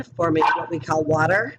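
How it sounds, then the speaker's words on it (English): A pet dog named Franklin barks and yips in short bursts close by, mixed in with a woman lecturing about chemistry, her voice running over most of the sound. "Sorry, that's my dog."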